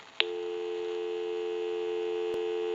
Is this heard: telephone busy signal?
yes